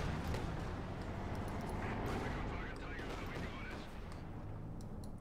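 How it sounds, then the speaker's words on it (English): Katyusha rocket artillery barrage in the Company of Heroes 2 strategy game, a dense continuous roar of launches and blasts filling the whole span with no break. "Katyusha fire here meant to silence the grenadiers"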